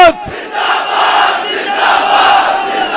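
A large crowd at a religious address shouts zindabad slogans in unison, a loud, sustained roar of many voices after a brief opening call, filling the space without pause.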